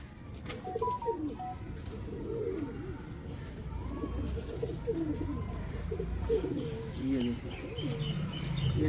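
Nankane pigeons, a Pakistani breed, coo softly in repeated rolling phrases with a few chirps mixed in, while other birds and a murmur of background voices carry on around them.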